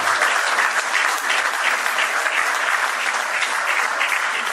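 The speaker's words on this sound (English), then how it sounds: "Please a round of applause for Prince Afolabi Andrew." Dense, steady applause from a gala dinner audience, loud and continuous throughout with no break or voices on top.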